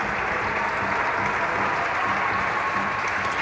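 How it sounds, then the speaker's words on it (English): An audience gives a steady round of applause after a win in a collegiate national finals handball match, a dense, continuous wash of clapping from a crowd, loud and unbroken with no clear talking. "Look at the round of applause."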